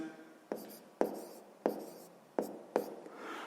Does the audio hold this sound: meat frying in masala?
no